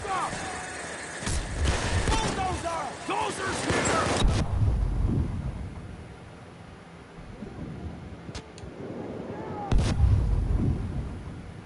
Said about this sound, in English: Somebody just blew me up with a fucking grenade.